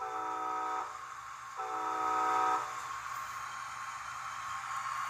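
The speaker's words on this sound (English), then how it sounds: "Same thing with the when you hit the air horn." A model train's air horn blows two short harmonic blasts in a row near the start, close and clear over a faint background hum.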